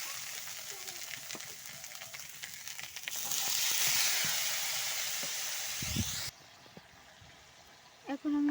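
Spices frying in a kadai give a steady sizzle that swells louder midway, then cuts off abruptly to near quiet with a couple of brief knocks; a voice talks over parts of it.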